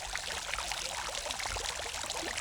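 Water flows and splashes steadily in a garden with a European flair, a continuous broadband rush like a small fountain or stream pouring, close and even in level throughout with no voices.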